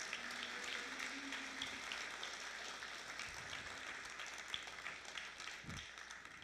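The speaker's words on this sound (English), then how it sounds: "Let's give Ronnie a big hand of applause" An audience at a fire academy graduation claps steadily in dense, sustained applause that fills the room at moderate loudness, with no speech over it.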